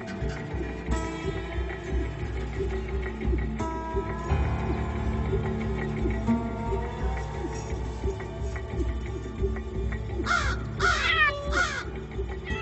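Adult raven giving harsh alarm caws for its young, a few loud croaking calls near the end over a dense, continuous background of other sound.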